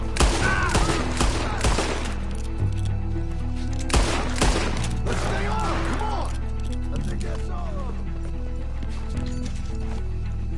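Gunfire rings out in Red Dead Redemption 2 as a rapid cluster of sharp shots in the first seconds, then scattered single cracks, mixed with horse hooves and a music bed, with voices talking over it.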